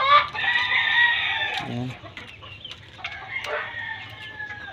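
Young hens clucking and calling on a small poultry farm, a loud burst of squawking at first that settles into scattered nearby clucks, with a brief spoken word among them.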